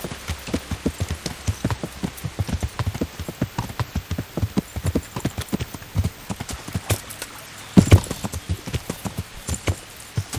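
A horse's hooves clip-clop at a steady, brisk trot through the medieval video game Kingdom Come: Deliverance. The hoofbeats are close and continuous, with one heavier thud partway through.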